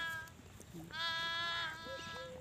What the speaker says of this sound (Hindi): तो ये टेडी बकरियां हैं